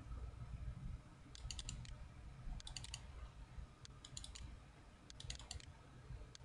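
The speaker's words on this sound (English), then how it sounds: "And again, I'm double clicking" A computer mouse double clicking during CorelDRAW work, with faint, close pairs of quick clicks repeating at irregular intervals over a low steady room hum.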